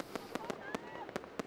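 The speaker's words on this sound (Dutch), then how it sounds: "Maar steek vuurwerk alleen af op de tijden dat het mag." Fireworks going off in Brunssum: a string of about seven sharp, cracking bangs at uneven intervals, each one a short burst above a steady background hiss.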